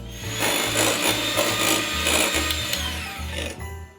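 Electric hand beaters whip lavender eggnog in a bowl, giving a steady, loud motor whir with a rhythmic pulsing rasp as the beaters churn, running continuously before cutting off at the end.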